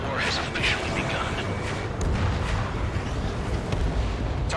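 Anti-aircraft fire and explosions in Ace Combat 7 keep up a dense, continuous rumble of booms and bursts, loud and unbroken, with faint radio chatter mixed in.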